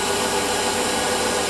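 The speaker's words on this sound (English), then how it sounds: "I'm going to pop this right through this little number 50 drill. Here we are, we're cutting." A small number 50 drill bores steadily through a part for a Stuart Models S50 model engine, a continuous close whirring and cutting hum, loud and unbroken for the moment.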